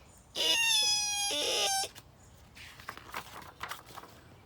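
A voice mimics screeching brakes with one sharp, high-pitched squeal of about a second and a half, followed by quieter rustling and faint knocks.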